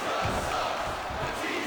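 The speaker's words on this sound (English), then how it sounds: "This capacity crowd is making their opinions known tonight." A capacity crowd at a WWE wrestling arena during a Batista versus Kelly Kelly last-man-standing match roars and shouts in a dense, unbroken wall of noise.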